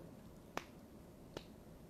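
Two sharp, quiet claps on the back of the hand, about a second apart, with a lone hollow slap each time against faint room hiss.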